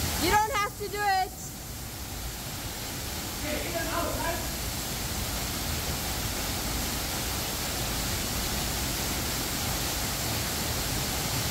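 A mountain waterfall on a hike from Khinaliq to Griz in Azerbaijan, a steady broadband rushing roar that fills the whole stretch, with a few brief voices over it near the start.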